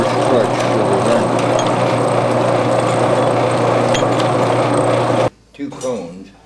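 An antique washing machine mechanism runs with its clutch ratcheting under rotating cones: a steady, loud mechanical whir and rattle with rhythmic clicking that stops abruptly near the end, followed by someone talking.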